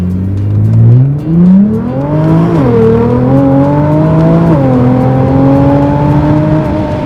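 Loud, close engine of a potent paddle-shift performance car accelerating on the road, revs climbing and dropping through several quick gear changes in a sustained, throaty roar without speech.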